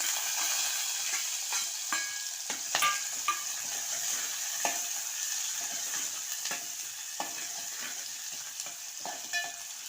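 Onion and green chilli fry with cumin in oil, making a soft, steady sizzle with scattered crackles and stirring clicks close by. The sound is fairly quiet, and no one speaks.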